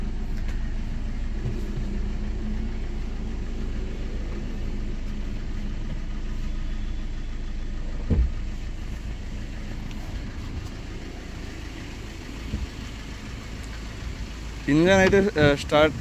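A Maruti Swift diesel engine idles in a smooth, steady low rumble for a long stretch, with a brief knock midway and a short burst of other sound near the end.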